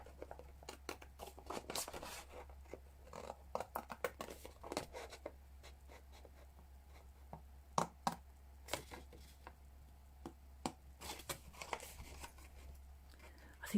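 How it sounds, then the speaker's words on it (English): Scissors snip and clip at a desk, sharp irregular cuts close to the microphone over a low steady hum, with a voice talking faintly at times. "It's because these scissors aren't great."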